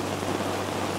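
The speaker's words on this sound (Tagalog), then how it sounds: "Umuulan na." Steady rain falls in a dense, even hiss outdoors near a parking area, with no voices, holding at a constant moderate level throughout.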